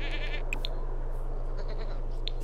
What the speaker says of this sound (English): Look at this little goat jumping around.